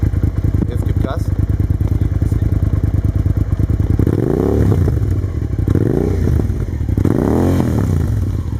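A Cagiva Raptor 650 motorcycle engine idles with a fast, even throb, then revs repeatedly, with several loud rising and falling throttle blips close to the microphone.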